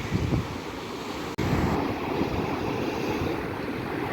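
Black Sea waves roll onto an Odesa beach under strong gusting wind buffeting the microphone, a constant loud wash of surf and wind noise.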